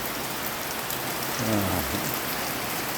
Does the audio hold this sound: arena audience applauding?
no